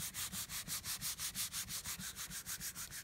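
A paper art transfer is rubbed firmly across its back with quick, even strokes. About seventeen rhythmic scratchy rubs come close and alone, with no talk.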